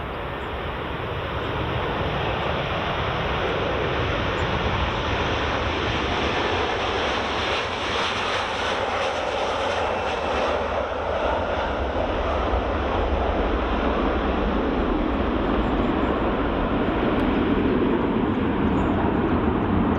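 Hainan Airlines jet at Edinburgh Airport roaring steadily for the whole stretch, a loud broadband engine rumble with wind buffeting the microphone, swelling slightly toward the end.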